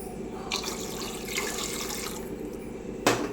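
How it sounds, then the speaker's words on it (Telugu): Water pours from a tap into a cooking pot for egg pulao, a steady splashing stream under a constant kitchen hum, ending with a brief sharp clatter. "వాటర్ కూడా పోసుకున్నాము."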